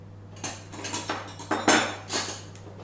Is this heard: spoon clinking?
yes